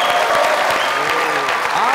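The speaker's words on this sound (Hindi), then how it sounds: "आप लोगों की जोरदार तालियों में मार्शल खान खामोश।" Loud applause from a television comedy show's studio audience for guest Mashal Khan, a thick, continuous roar of clapping with a few faint voices mixed in.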